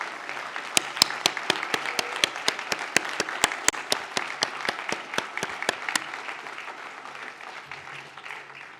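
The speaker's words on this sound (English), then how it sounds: "I'm going to ask the graduates to stand up and applaud their parents and friends" Graduates at a University at Buffalo commencement ceremony stand and applaud their parents. Sharp, distinct claps ring out over a softer, diffuse crowd applause in a large hall, then thin out toward the end.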